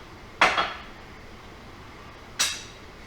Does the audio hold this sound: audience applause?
no